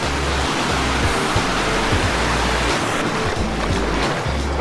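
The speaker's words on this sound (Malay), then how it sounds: "Tengoklah air terjun itu." A waterfall on Gunung Jerai roars in a loud, continuous rush of falling water close by, with deep rumbling surges in the low end and no talking.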